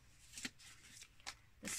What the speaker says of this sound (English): I'm just going to shuffle the tarot cards